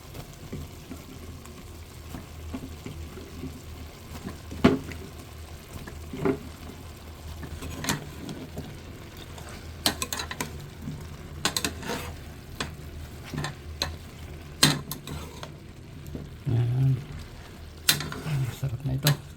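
Chicken tinola soup stirred in a pot, with scattered clinks and scrapes of a utensil against the pot over a low simmering hiss, the strokes irregular and close.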